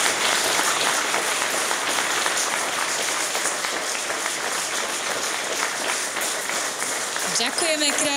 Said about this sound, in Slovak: Veľký potlesk pre vás.